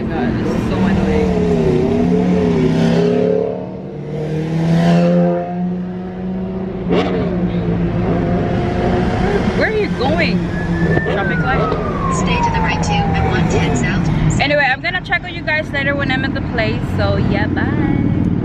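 Los Angeles city traffic heard from inside a car, with a passing siren sweeping and other vehicles moving and revving around it, mixed with people talking and music throughout.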